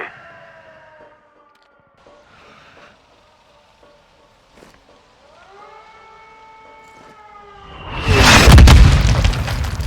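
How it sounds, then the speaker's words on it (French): In Call of Duty MW2 gameplay, a wailing siren drones over faint battle noise, then a mortar round lands with a loud, close explosion near the end, its rumbling blast filling the last seconds. "Ils envoient des coups de mortier."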